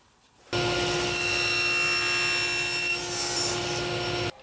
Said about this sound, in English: then we can follow through with the cut to make our miter